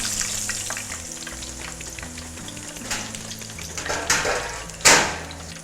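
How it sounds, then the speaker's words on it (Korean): Mushroom pieces deep-fry in hot oil during a military-catering cooking class, a dense steady sizzle and crackle with scattered bubbling pops and a sharp utensil clink near the end. "버섯은 위에 떴을 때 그 기름방울이 이와 같이 나타나지 않을 정도가 적당한 튀김이 되겠습니다."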